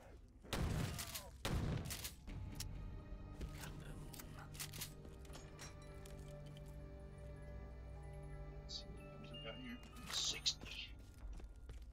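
Loud gunfire from World at War era weapons in a custom Call of Duty Zombies map, two sharp blasts early followed by quieter game ambience, clinks and scattered distant shots, with faint speech.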